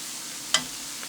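A square of butter melting in a hot pan gives a steady, soft sizzle throughout, with one brief louder crackle midway as it spatters; no voices.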